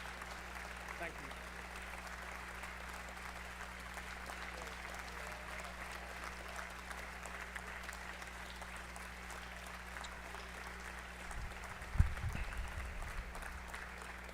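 A large audience at a state address keeps up long, steady applause as a speaker walks off. The clapping is even and sustained for many seconds under a low hum, with a brief thump near the end and voices talking over it.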